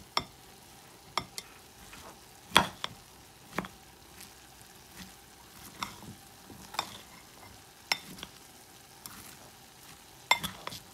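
Chopped vegetables for pico de gallo are mixed together in a bowl before lime is added, giving quiet, sparse clicks and soft scrapes at irregular intervals with no talking.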